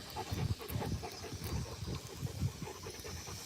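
Several big dogs pant rapidly up close in an outdoor neighborhood setting, a rough, breathy rhythm of quick huffs. Faint whimpers sometimes rise above the panting.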